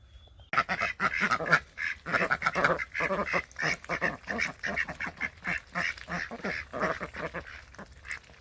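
Ducks in a garden quack repeatedly in busy, overlapping bursts, loud and close, with a steady chatter of calls and brief pauses between them.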